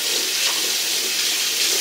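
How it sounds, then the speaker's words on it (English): Hands being washed under a running tap while making homemade summer fruit compote, a steady, fairly loud hiss of flowing water and splashing that stays even throughout, with no talking. "Now you wash your hands."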